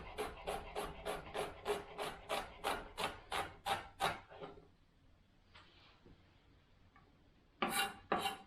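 Knife chopping a vegetable finely on a board, a quick steady run of about a dozen close crisp chops, then a pause with faint movement, then two more chops at the end, no talking.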